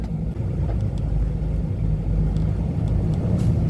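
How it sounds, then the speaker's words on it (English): Rush hour road traffic heard from inside a car, a steady low engine and road rumble with faint passing vehicle swells, continuous and moderately loud, no talk. "Too much traffic today."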